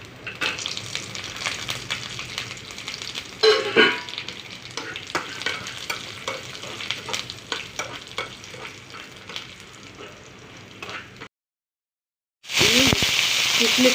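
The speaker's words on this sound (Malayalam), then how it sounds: "അതിലേക്ക് കശുവണ്ടി ഇട്ട് കൊടുക്കാമേ" Cashews fry in hot ghee in a pan with coconut pieces for wheat and moong dal payasam, a steady loud sizzle broken by stirring scrapes, then a short silence before a burst of harsher sizzling.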